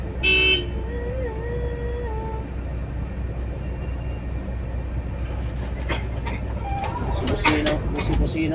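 A car horn toots in a brief burst near the start during a road trip from Pamplona to Pagbilao, over steady traffic and engine rumble, followed by further horn-like tones and people talking.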